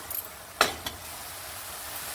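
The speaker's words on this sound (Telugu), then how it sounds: "వీటన్నిటిని కూడా పచ్చి వాసన పోయేంత వరకు చక్కగా వేగనివ్వాలండి" Green chillies and spices frying in a pan on medium flame, a low, continuous sizzle close by, broken by a sharp stir or scrape and a fainter follow-up knock, with no talking.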